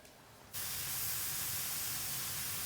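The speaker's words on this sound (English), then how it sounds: "So you guys can hear all that sizzling we got going on there." Tomatoes sizzle while fire roasting for salsa, a loud steady hiss that starts abruptly and then holds continuous and close.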